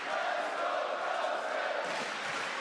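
Arena crowd at a Craig Jones Invitational grappling event roars and cheers in a steady, loud wash of voices, fading slightly near the end.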